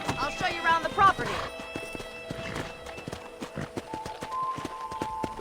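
A horse's hooves clip-clop at a steady walk in the Western video game Red Dead Redemption, crisp repeated hoof strikes up close under game dialogue and a brief whinny-like vocal.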